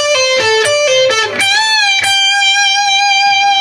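Electric guitar lead phrase from a solo: a few quick picked notes, then a sustained note held with vibrato ringing out alone.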